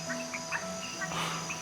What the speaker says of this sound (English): Great night for frogs. They're croaking everywhere